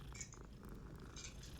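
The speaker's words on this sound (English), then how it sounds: "Oh, is that a cat?" Soft, close purring from a cat in the Hogwarts Legacy video game, a quiet continuous rumble with faint higher chirpy accents near the start and end, no voices over it.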